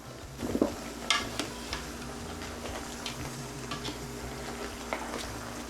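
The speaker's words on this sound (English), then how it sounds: "I'm gonna let the oxtail fry up for 15 minutes." Oxtail frying in oil in a covered pot on the stove, with a soft, steady low sizzle and a few faint ticks and clinks of the pot through a quiet kitchen.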